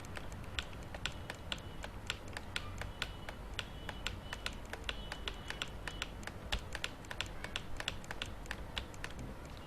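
A device keypad is pressed over and over in a rapid, irregular run of light clicky taps, close up and fairly quiet, with no voices.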